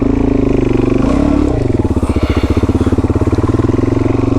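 Adventure motorcycle riding along a greasy dirt track near a campground, engine chugging loud and close with a steady rhythmic pulse as it moves on.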